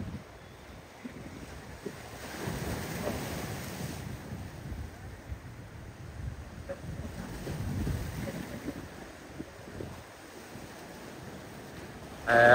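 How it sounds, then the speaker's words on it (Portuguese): High tide surf at Boa Viagem beach in Recife, Pernambuco, with waves washing against rocks as a continuous low roar mixed with heavy wind buffeting the microphone, surging in a few swells. "o mar tá avançando"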